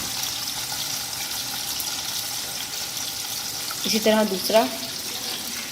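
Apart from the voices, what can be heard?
shami kebabs shallow frying in oil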